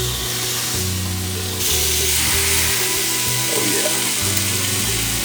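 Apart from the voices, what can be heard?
steak sizzling in a grill pan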